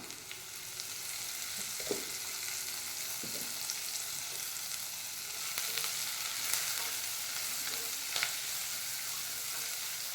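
Salted onions sizzle steadily in a hot pan, a continuous crackling hiss with occasional clicks and small pops, close and unbroken.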